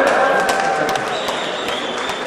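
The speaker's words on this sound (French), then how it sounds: "Applaudissements, s'il vous plaît." Applause at a rugby cap presentation ceremony: a short burst of scattered clapping from a gathering, with faint tones and background murmur.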